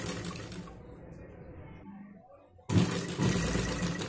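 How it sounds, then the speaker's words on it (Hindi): A sewing machine stitches around the edge of a fabric chunri with a fast, rattling run, stops briefly, then starts again loudly and close by, with a voice faintly in the background. "आप देख सकते हो ये मैंने चारों तरफ सिलाई लगा ली है मशीन की"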